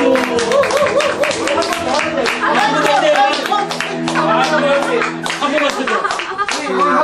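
A church congregation claps together during a service, a dense patter of hands running throughout beneath a prominent voice and tonal music.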